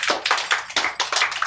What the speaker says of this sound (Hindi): अख्तर के लिए तालियां।